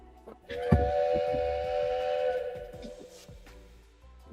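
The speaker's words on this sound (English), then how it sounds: "my kettle is just starting to whistle" A kettle whistles as water boils, a sustained shrill tone rising in and holding for several seconds, close and fairly loud with a few clicks and knocks around it.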